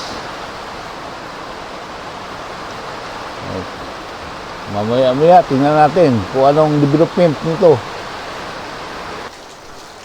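Heavy typhoon rain keeps up a constant hiss outside the barangay hall in Lonoy while someone talks over it for several seconds near the middle, then the downpour carries on alone.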